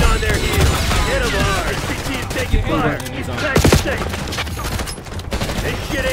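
Gunfire in the video game Call of Duty Black Ops 6: dense rapid bursts and crackling shots fill the mix continuously, with louder sharp reports around the middle, with voices talking over the shooting.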